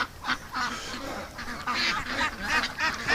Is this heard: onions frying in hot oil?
no